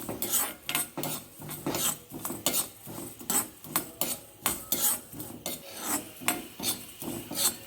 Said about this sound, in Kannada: ಎರಡು ಚಮಚ ಆಗೋಷ್ಟು ಕೊತ್ತಂಬರಿ ಕಾಳುಗಳನ್ನು ಹಾಕಿದ್ದೀನಿ ಇದನ್ನು ಚೆನ್ನಾಗಿ ಹುರ್ಕೋತಾ ಇದ್ದೀನಿ